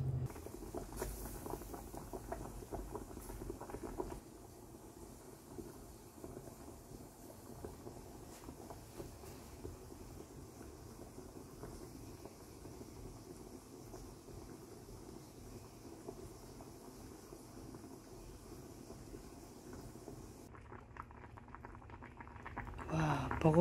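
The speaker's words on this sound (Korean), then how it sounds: "보글보글보글 잘도 끓고 있습니다" A small sole braising in soy sauce with potatoes bubbles steadily in a pot, a continuous soft simmering hiss and patter that stays even throughout and rises to a louder rustle at the very end.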